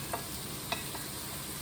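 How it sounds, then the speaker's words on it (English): Chopped vegetables and meat cooking together in a pan, a soft steady sizzle with a few light clicks of stirring utensils against the pan, no voices. "The vegetables are cooking nicely now."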